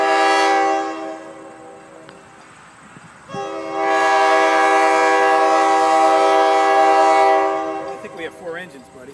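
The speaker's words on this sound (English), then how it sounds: "Now this is a good sized train." A CSX mixed freight train pulling a long string of hoppers sounds its horn loudly and close at a crossing in Holland, Michigan, one long blast, a brief break, then a second sustained blast.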